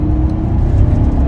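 A 2015–2019 Toyota Tundra pickup truck engine revs with a deep, steady, loud rumble that holds continuously throughout, with no voices over it.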